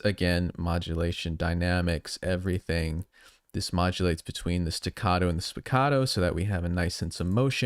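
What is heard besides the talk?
No distinct noise like a dog, phone or traffic.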